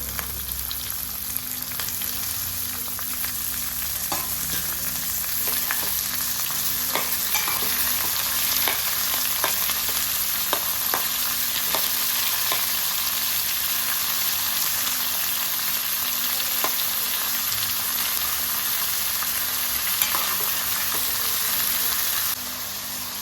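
Tomatoes and coriander frying in a pan, giving a steady close sizzle with occasional clicks and crackles and faint stirring, lasting throughout without speech.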